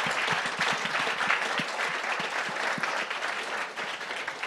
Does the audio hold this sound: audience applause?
yes